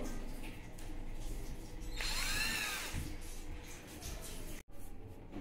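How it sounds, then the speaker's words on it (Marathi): An electric drill bores a hole for mounting a video doorbell, giving one high, whining burst of about a second against quiet room noise, followed by a brief pause. "आता आपलं ड्रिल मशीन रेडी झालेलं आहे। आता आपण 2 छिद्रे पाडून घेणार आहोत।"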